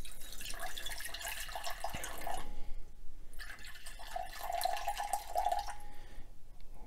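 Water is poured from one container into another while measuring it out for cold-process soap making, giving two trickling, splashing pours separated by a short pause, close and moderately quiet.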